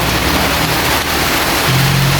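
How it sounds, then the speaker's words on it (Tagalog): Dense, steady hiss of rain falling without a break while the sun is out, loud and enveloping, with a faint low hum underneath and no voices. "may araw pero umuulan"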